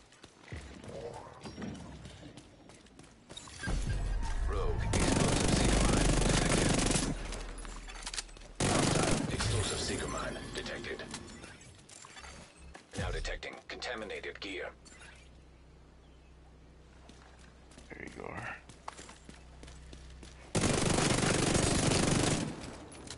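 A light machine gun fires in The Division video game. Long sustained bursts of loud, rapid automatic fire are broken by quieter stretches, and a voice talks in between.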